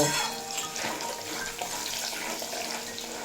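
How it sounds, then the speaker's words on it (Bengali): Potatoes frying in hot oil over a medium-high flame, a steady dense crackling sizzle held throughout without any talk. "ভেজে নেব এই আলুগুলো মিডিয়াম টু হাই ফ্লেমে রেখে বেশ লাল লাল করে ভেজে নেব"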